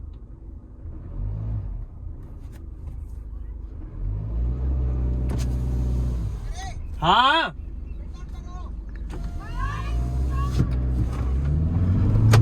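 A Hyundai Verna sits at the start line of a drag race, its engine rumbling low and then building as the car pulls away, close and steady, with people talking briefly over it.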